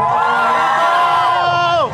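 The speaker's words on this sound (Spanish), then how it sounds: "Y el aplauso para San Andrés Apóstol, por supuesto." A loud, dense crowd at a town patron saint festival and carnival for San Andrés Apóstol in San Andrés Cuexcontitlan, cheering and calling out continuously for about two seconds, with voices blended into a steady roar.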